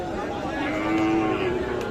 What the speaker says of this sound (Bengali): আপনাদের খামারে উপযোগী শাহিয়াল জাতের কোয়ালিটিফুল বক ষাঁড় বাচ্চাগুলি